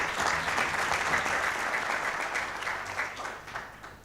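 A startup pitch audience applauds the presenters with a full, steady round of clapping that gradually thins and fades toward the end.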